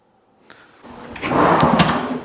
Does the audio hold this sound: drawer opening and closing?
yes